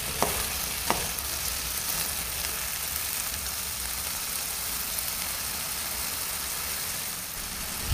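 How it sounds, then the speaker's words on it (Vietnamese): Yardlong beans stir-fried in a hot pan after seasoning goes in, a steady broadband sizzle holding for the whole stretch, with a couple of sharp chopstick clicks near the start and no talking. "Dùng đũa trộn đều."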